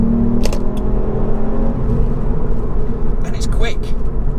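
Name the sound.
Ford Fiesta ST-3 Performance Edition exhaust in sport mode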